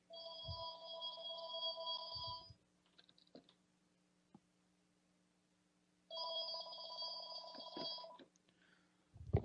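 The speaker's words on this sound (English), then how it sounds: "I have my home phone ringing, and I am not going to answer it." A home landline telephone rings in two long electronic bursts separated by a quiet pause, moderately loud in a room with a low background hum and a few faint clicks.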